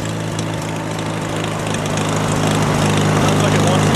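An old engine from a CJ5 or Farmall H idles steadily with a low, loud throbbing drone close by, running on as it burns through the last of its fuel.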